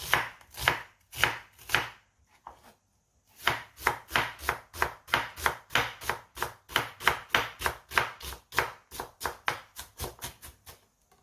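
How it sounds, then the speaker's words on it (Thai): A knife dices a large onion into small cubes on a cutting board, with quick, evenly spaced chops close up, a brief pause, then a long steady run of crisp strikes. "ทีนี้เราก็มาซอยหอมใหญ่เหมือนกันค่ะ เราก็ ซอยชิ้นเล็กๆ เหมือนกันนะคะ เป็นสี่เหลี่ยม เล็กๆเหมือนกันค่ะ"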